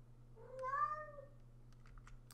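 A pet cat gives one short, clear meow indoors at a gaming setup, fairly faint over a low electrical hum, followed by a few soft keyboard clicks.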